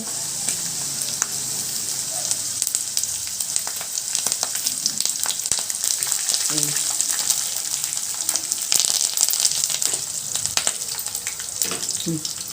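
Urad dal, mustard seeds and slit green chillies sizzle in hot oil for dabbakaya pulihora, a steady broadband frying hiss with scattered sharp crackles and pops, close and continuous throughout.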